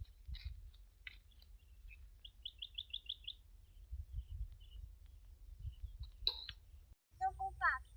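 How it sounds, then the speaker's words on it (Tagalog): Small bird chirping in short, quick bursts of high tweets, fairly faint and scattered over a low rumbling background, with a brief louder trill near the end. "Kasi tingog sa bird."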